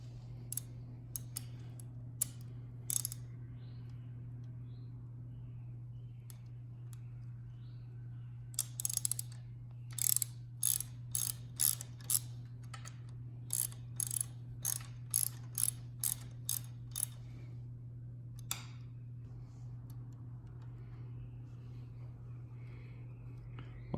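Quiet, close ratchet clicks come as a Harley Sportster's brake line holder bolts are removed. Scattered clicks lead into a denser run of rhythmic ratcheting in the middle, all over a low steady hum.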